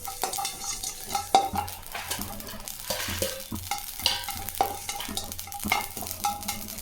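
Mustard seeds dry-roast in a pan without oil for spice powder, giving quick irregular pops and crackles close by, mixed with light scraping as they are stirred.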